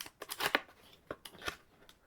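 Unboxing an MSI RTX 4060 Gaming X graphics card, with a quick run of close, crisp rustles and crinkles of packaging, a few sharp bursts and then scattered lighter handling noises.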